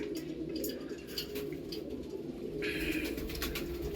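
A pair of Andhra pigeons coo softly and steadily against a low background hum, with a few faint chirps and a clatter near the end.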